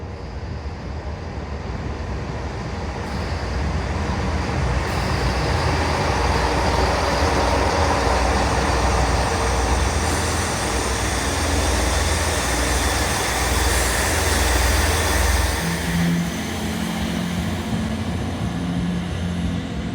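A Great Western Railway train runs through the station at Dawlish with a loud, continuous rumble and rush that holds steady for about twenty seconds before easing slightly near the end. No voices are heard.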